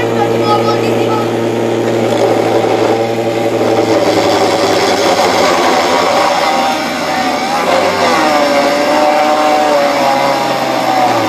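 A homemade drill driven by a 6,000 RPM 24 volt DC motor runs with a steady loud whine that shifts slightly in pitch, while people talk over it.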